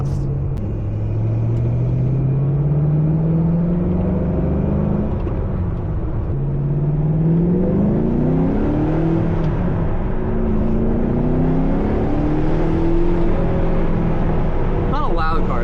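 Supercharged engine of a 2006 Ford GT driven on summer tires in cold weather, a deep rumble rising and falling through gear changes, fairly close and moderate in loudness, with someone talking over it.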